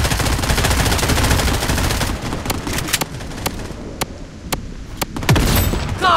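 Bursts of automatic gunfire rattle loudly in the shooter game Bloodstrike, then give way to sharp, spaced single shots and short volleys over a quieter background.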